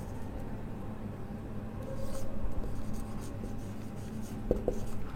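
Pen writing out a chemistry calculation on paper, a soft steady scratching and rubbing close by, with a couple of sharper taps near the end.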